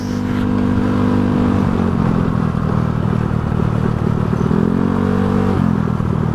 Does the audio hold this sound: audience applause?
no